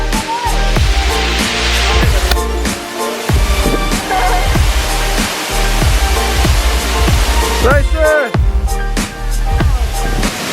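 A cold mountain waterfall on a volcano slope in Camiguin, Philippines roars loudly and steadily nearby, while a person shouts once over the constant rush.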